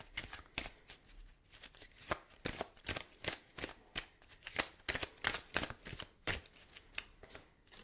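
Oracle cards being shuffled by hand, a quick run of crisp papery riffles and slaps repeating steadily at close range, with no talking.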